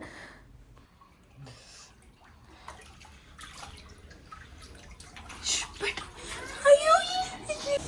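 Heavy rainwater pours into a flat in Dubai, forcing its way in from a bedroom. Faint dripping and splashing grow into louder, close rushing water toward the end, with a voice in the background.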